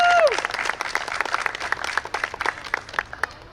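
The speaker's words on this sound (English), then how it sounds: "So join me in a big applause for their birthday celebration." Festival crowd applauding and cheering at an outdoor birthday celebration, a dense burst of many hands clapping that runs steadily throughout. A brief whoop rises at the start.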